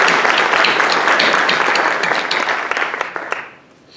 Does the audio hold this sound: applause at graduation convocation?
yes